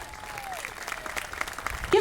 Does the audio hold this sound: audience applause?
yes